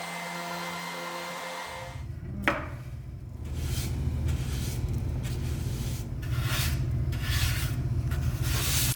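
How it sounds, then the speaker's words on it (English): Wood filler over nail holes on a bathroom LED feature wall being sanded, a steady rasping hiss that rises after a short pause and keeps going with rhythmic strokes, fairly close. "then quick sand and finish over those"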